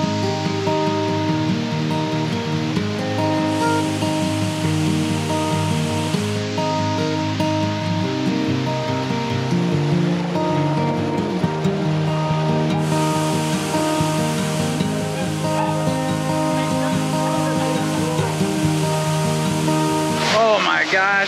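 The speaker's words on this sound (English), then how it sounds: "We are at the second waterfall, which is called Cascada Pequeña" Steady rushing roar of the Cascada Pequeña waterfall in the Azores, loud and continuous, with a voice talking over it throughout.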